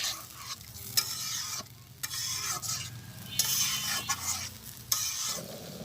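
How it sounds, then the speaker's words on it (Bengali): Milk and ground nut paste being stirred into a sizzling pointed gourd curry in a village kitchen, with loud scraping spoon strokes over a bubbling fry that rises and falls, and no voices. "দুধ এবং বাদাম বাটা একসাথে মিশাইয়া যেটা দিয়ে দিতেছি।"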